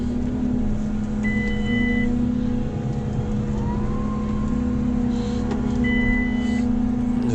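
JCB Fastrac tractor with its power harrow lifted turning around, a steady low engine drone at low revs with faint higher whines, continuous and fairly close, no talk.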